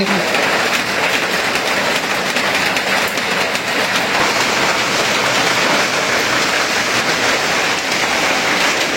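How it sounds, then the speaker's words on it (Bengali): Steady, heavy rain falls without a break, a dense, even hiss that fills the whole stretch with no voices over it. "ওই তো মেঘ করতেছে, বৃষ্টি পড়তেছে"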